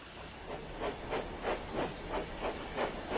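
Steady mechanical hiss with a pulsing, chuffing rhythm, roughly evenly spaced beats like a steam engine venting, continuous and fairly close, from a Roblox Thomas and Friends game.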